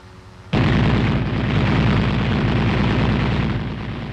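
An M551 Sheridan armored reconnaissance airborne assault vehicle's cupola machine gun opens fire with a sudden loud onset, then a continuous rapid burst of shots lasting several seconds, close and dense with no talking.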